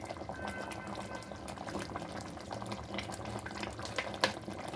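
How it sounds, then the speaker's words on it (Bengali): Coconut-milk gravy simmers in a pot, a soft, continuous bubbling with small irregular pops, faint and close, with no voices. "এখন ফুটছে"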